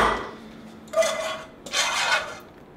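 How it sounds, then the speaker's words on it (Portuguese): Glass tapped or knocked in a home kitchen, two short bursts of bright clinking and rattling about half a second apart, close and moderately loud with no talk. "É tu batendo no vidro"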